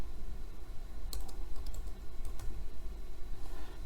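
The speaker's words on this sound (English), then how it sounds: "So you can go here and type Abdullah." Someone types a name on a computer keyboard, a quick run of light key clicks over a steady background hum, close and fairly quiet.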